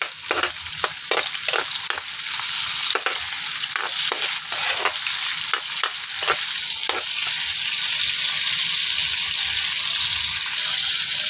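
Garlic and onion sauté in a hot pan with a steady loud sizzle, broken by repeated scraping stirs of a utensil against the pan throughout.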